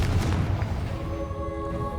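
Confringo spell blast in the video game Hogwarts Legacy, a heavy booming explosion at the start that rumbles and decays into a lingering tonal hum.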